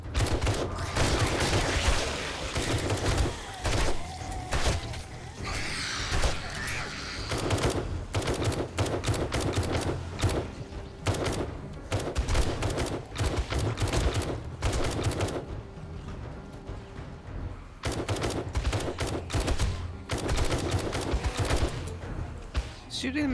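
Rapid automatic gunfire from the video game 7 Days To Die cuts down zombies during a day 28 horde night, with dense, loud bursts and brief gaps as someone talks over the shooting.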